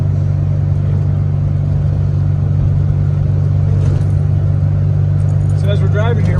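Inside a VW with a carburetor whose accelerator pump has just been adjusted, a loud, steady engine drone fills the cabin as the car accelerates, with a voice talking over it.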